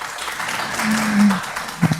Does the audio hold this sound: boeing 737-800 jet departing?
no